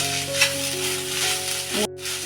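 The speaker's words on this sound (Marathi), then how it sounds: "बघा तुपामध्ये चांगलं मी परतून घेते खोबरं ओलं" Freshly grated wet coconut sautés in hot ghee, giving a steady, close sizzle with faint stirring rattles that breaks off abruptly near the end.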